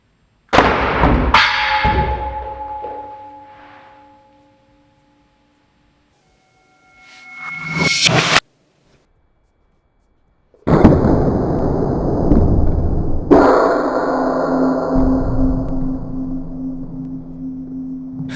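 A homemade coilgun charges and fires at a target in a workshop, giving loud sharp bangs with ringing decays, a rising whine, and a long noisy blast that tails off, with no talk.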